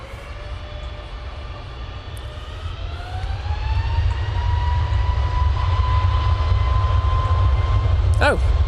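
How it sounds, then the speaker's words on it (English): An Airbus A321neo jet bound for Etihad roars steadily at an airport, its engine drone swelling and holding loud with a rising whine throughout. "It's the A321neo off to Etihad"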